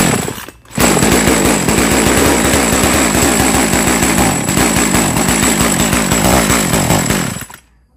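Small engine idling rough and uneven because of a loose ignition coil bolt, a steady close chugging and rattling drone that holds for several seconds and then stops abruptly.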